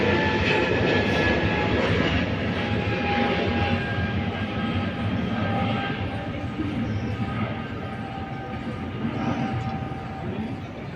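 A train rumbles past nearby beside a fishing spot, a continuous loud roar and rattle that slowly eases over the stretch.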